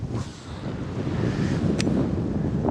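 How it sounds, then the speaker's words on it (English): Strong wind buffets the microphone beside clear water at a fishing spot, a steady low roar with no speech that swells slightly louder through the middle of the short stretch. "This wind is nuts."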